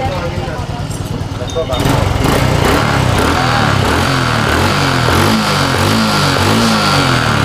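Honda Supra 125 motorcycle engine running close by, a loud steady putter that grows busier after a couple of seconds, with a voice talking over it.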